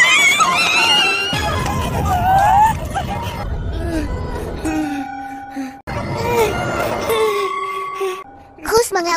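Cartoon children scream in fright from a dark shadowy figure, high wavering shrieks over babble and talk, loud and close, broken by a short cut before more screaming and excited voices.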